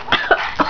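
A short burst of three quick, close coughs in rapid succession, fairly loud, with no other sound around them.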